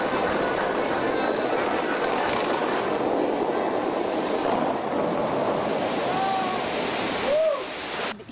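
Continuous loud rush of spraying water from a dancing fountain show in the Middle East, a dense hiss with no pauses, and a few short whistling tones near the end.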